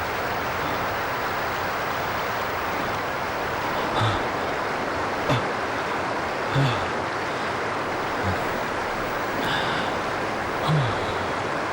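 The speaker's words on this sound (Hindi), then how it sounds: "यार ये झरना तो बहुत डरावना।" A waterfall in a jungle rushes as a steady, broad roar of falling water, with a few soft knocks and faint sounds of movement rising briefly above it.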